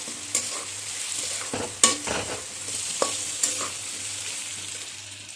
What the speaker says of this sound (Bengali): মাছটা দেওয়ার পরে একটু আস্তে আস্তে নাচতে হবে না হলে ভেঙে যাওয়ার ভয় থাকে